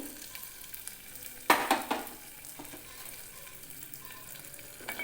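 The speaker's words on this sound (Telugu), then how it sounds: "జీడిపప్పు బాదం పప్పు కలిపి కొద్ది దూరగా వేయించుకోవాలి" Cashews and almonds roasting in a pan: quiet pan sounds with a couple of sharp stirring scrapes and a brief sizzle, the rest fairly still with soft clinks.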